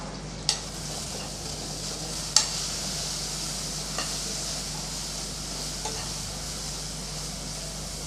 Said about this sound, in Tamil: இதையும் அப்படியே எண்ணெயிலே நல்லா வதக்கி விட்டுறலாம்